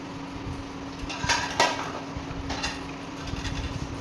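Lid of a pressure cooker holding bottle gourd and salt being shut in a home kitchen, two sharp metallic clacks in quick succession over a steady background hum.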